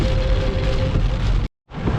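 Heavy rain pours down on a forest route in a tiger reserve, a dense, continuous loud hiss that cuts out briefly near the end and then returns.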